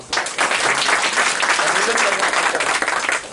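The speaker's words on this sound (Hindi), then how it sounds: "ताली बजा के" Clapping from an assembled audience welcoming an official at a local gathering in Nagda, a loud, dense, continuous round of applause from many hands lasting the whole stretch.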